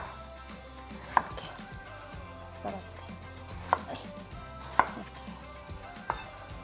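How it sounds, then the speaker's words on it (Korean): A knife cuts 500 g of radish into flat square slices on a board, giving about five sharp, close chopping knocks at uneven intervals against a quiet background. "무도 500g의 무를 이렇게 나박나박 썰었습니다"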